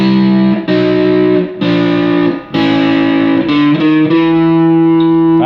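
Loud, close electric guitar with a gritty, effected tone plays a blues turnaround, a few sustained notes and chords stepping down to a ringing final chord.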